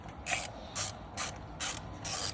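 A ratchet on a long extension turns headlight bolts on a BMW X3, sounding five evenly spaced bursts of rapid pawl clicking, close and crisp, with quiet pauses between strokes.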